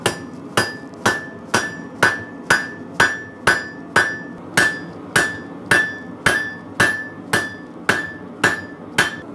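A power hammer forges the point of an 80CRV2 steel knife blade, about seventeen evenly spaced ringing metallic blows in a steady rhythm, close and loud with no talking.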